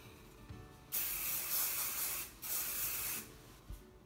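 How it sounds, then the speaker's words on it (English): Hairspray hisses from an aerosol can onto freshly curled hair in two long bursts, the first about a second and a half, the second just under a second, close and loud, with no talking. "before I hairspray this section"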